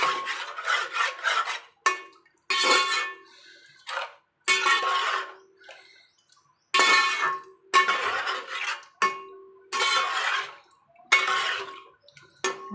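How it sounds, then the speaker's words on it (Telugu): Raw chicken curry is mixed in a pot in bursts of wet scraping and squelching, close and fairly loud, each stretch of stirring separated by short silent pauses. "ఇప్పుడైతే కలుపుకుందాం"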